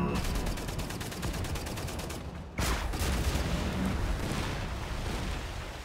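A missile launcher fires in the shooter game Wolfenstein: The New Order, producing a dense, sustained roar of blasts and rapid gunfire with a sharp burst midway, loud and continuous.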